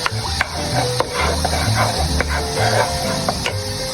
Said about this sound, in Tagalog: magtutoasty din tayo ng bawang para pang toppings natin mamaya